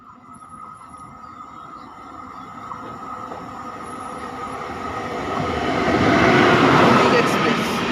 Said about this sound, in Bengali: উল্টো দিক থেকে চলে আসছে একটি এক্সপ্রেস ট্রেন মালগাড়ি